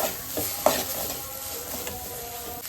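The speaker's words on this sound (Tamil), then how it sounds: "ரெண்டு பச்சை மிளகா போட்டுக்கிறேன் கூடவே இஞ்சி பூண்டு பேஸ்ட்டும் ஆட் பண்ணிக்கிறேன் இப்போ இது வெங்காயத்தோடு நல்லா மிக்ஸ் ஆகணும்" Onions sauté in a pan with green chillies and ginger-garlic paste for a goat head curry, giving a steady, close sizzle with a few scraping stirs and a sharp tap near the start, with no talking.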